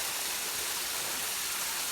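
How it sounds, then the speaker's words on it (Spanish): A small waterfall with reduced flow after the rains lets out a steady, dense rush of falling water, constant and fairly close, with no voices. "aquí andamos llegando a una de las pequeñas cascadas"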